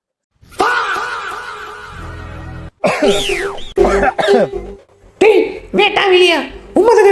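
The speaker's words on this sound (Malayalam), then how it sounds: "ഇപ്പൊ ചുമച്ചോണ്ടിരിക്കാണ്" A person coughs and clears their throat in several harsh bursts, with short pauses between them, close and loud.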